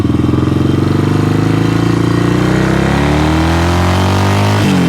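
A vintage Yamaha XS motorcycle engine idles nearby, a loud steady rhythmic throb with rich low harmonics that sag slightly in pitch before a small blip near the end.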